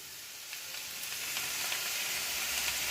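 Semolina sizzles steadily in a hot pan as water is added little by little and stirred, a bright continuous hiss with small crackles and no talking.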